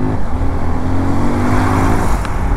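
A Suzuki V-Strom SX 250 adventure motorcycle with a Gixxer sports-bike engine revs hard while overtaking, a loud, close, steady engine drone blended with road and passing-traffic noise.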